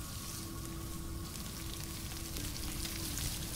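Food cooking over a campfire in the survival video game Stranded Deep, a steady close sizzle and crackle like frying, with a faint tonal hum running underneath and no talking.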